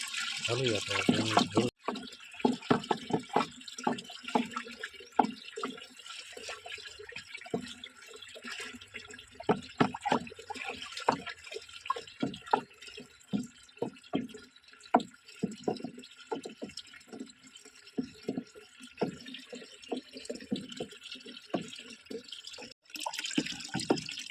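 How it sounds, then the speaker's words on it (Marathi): Water pours into a tank being filled for drip fertigation of an orchard, making irregular splashing and gurgling close by, with some voice-like sounds mixed in. "आता आपली टाकी जवळजवळ भरत आलेली"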